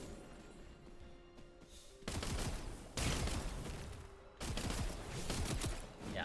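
A power reload attack in the game Wayfinder fires as rapid, dense bursts of crackling impacts, loud and close, coming in three separate volleys with brief quieter gaps between.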